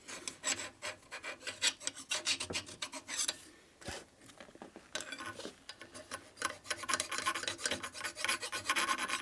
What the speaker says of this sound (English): Try not to file the rod though.